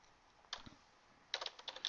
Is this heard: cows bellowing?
no